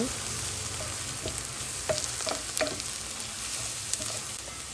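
Onion, chili, turmeric and spices fry in a pan with a constant close hiss and crackle, broken by a few sharp stirring scrapes and pops, no voices present.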